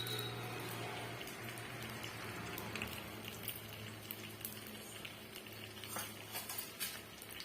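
Ragi balls fry in hot oil in a home kitchen, giving a soft continuous sizzle with light scraping and stirring taps, faint and close with no talk.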